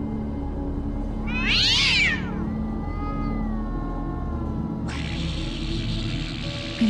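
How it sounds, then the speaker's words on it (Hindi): A cat meows loudly once in a rising, wavering cry, mid-level in a quiet indoor scene during a suspenseful Hindi TV serial moment, followed by a steady hiss. "बिल्ली?"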